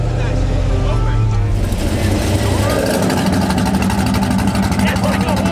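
A loud supercharged car engine with its exhaust opened rumbles with a harsh, throaty note at a track day, shifting from deep idle to a raspier run, with voices mixed in.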